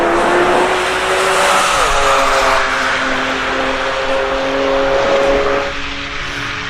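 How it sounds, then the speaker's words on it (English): Touring race cars, among them a BMW M4, roar past at Laguna Seca, loud engines whining and shifting in pitch as they climb and pass, with a touch of tire squeal and no voices. "Doug Makishima goes up the hill in the M4 in second position, while Efson is rounding out turn 4"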